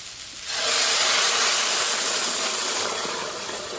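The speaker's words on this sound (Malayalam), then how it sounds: "ഇനി നമുക്ക് ആ ചിക്കൻ്റെ സ്റ്റോക്ക് അങ്ങ് ഒഴിച്ചു കൊടുക്കാവേ" Chicken stock is poured into a hot pan and hisses loudly, a broad, steady sizzle that starts abruptly, swells and holds, then eases slightly, close up with no talk.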